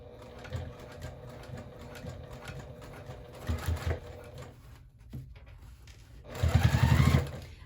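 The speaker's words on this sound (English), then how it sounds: "I am top stitching it where I want to." Short bursts of sewing machine top stitching on a handbag with a vinyl piece, a quieter run of stitching early on, then a louder, faster burst near the end, with no talking.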